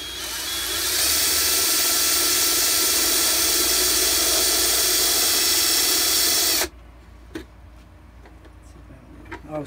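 A power drill whines loudly and steadily for about six seconds while boring into a Shadow Trooper armor part, then cuts off abruptly, leaving a few faint clicks and taps.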